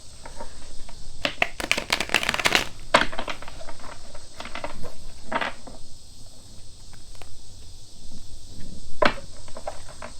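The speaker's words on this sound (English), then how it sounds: "One more shuffle, please." Quick bursts of cards being shuffled, crisp riffling flutters in a few clusters, close and fairly loud over a faint steady hiss.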